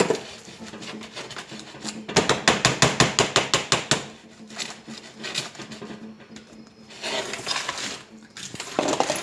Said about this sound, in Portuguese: Eu gosto sempre de estar batendo do lado assim, pessoal, para ela vibrar, tá?